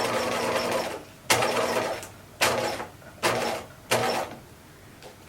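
Sewing machine stitching elastic onto pajamas runs in four close, loud bursts of rapid mechanical whirring, separated by brief pauses as the fabric is pivoted, with a steady background hum throughout.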